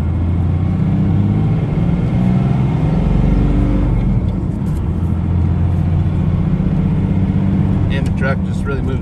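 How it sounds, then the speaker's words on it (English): A 2nd Gen truck with a 5.9L Cummins diesel and a turbo fault accelerates from about 1500 rpm, its deep engine rumble building under throttle, loud and close, with turbo boost climbing as it pulls. "we're gonna roll into the throttle here at 1500"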